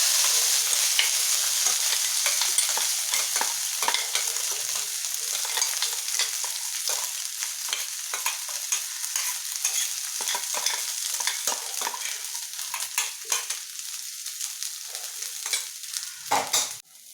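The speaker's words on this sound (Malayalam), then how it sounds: "ഇതിലേക്ക് നമുക്ക് ചതച്ച് വെച്ചിരിക്കുന്ന അരപ്പും കൂടെ ഇട്ട് കൊടുക്കാം." Crushed spice paste goes into beetroot frying in a pan and gets stirred through it, giving a steady loud sizzle with constant scraping and stirring that runs throughout and fades out at the end.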